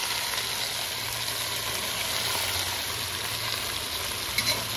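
Sayote shoots sauté in a hot pan with a steady, loud, even sizzle that holds unbroken throughout, a faint clink near the end.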